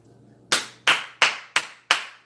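Five sharp, slow, evenly spaced hand claps in the style of Jason Garrett, loud and close, each with a crisp attack and short decay, over a faint low hum.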